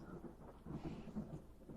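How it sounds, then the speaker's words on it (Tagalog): Loud thunder during a thunderstorm, a deep continuous rumble that swells in the middle with a rain-like hiss over it, heard alone without speech. "Ate, ang lakas ng kulog at kidlat."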